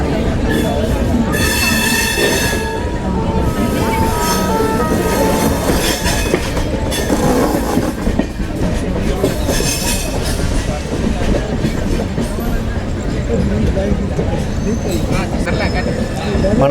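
Tirumala Express running into Vijayawada Junction, a steady loud rumble of rolling coaches with rhythmic wheel clatter and occasional high squeals, voices talking over it throughout.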